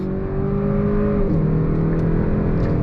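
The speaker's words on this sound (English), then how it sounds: "we're going to go ahead and pull out here and go back on throttle" A 2022 Kia K5 GT sport sedan pulls away under throttle from a rolling start, heard from inside the cabin: a loud, steady engine drone rising in pitch, briefly dipping at a quick gear shift, then climbing again.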